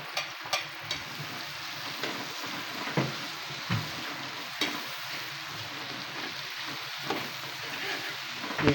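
White onion fries in a pan for chicken curry, a steady close sizzling hiss broken by occasional light clicks from stirring, with no one talking.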